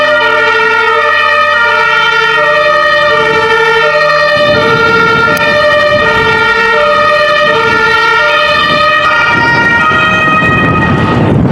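An ambulance siren wails loudly and continuously as it passes along a residential street in Germany, its rising and falling tones dominating over low traffic rumble.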